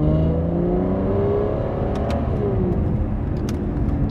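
An Aston Martin Vanquish engine hums and revs while driving on a bumpy road, its pitch sweeping as the car pulls and shifts, a steady close drone with a few light clicks and no talk.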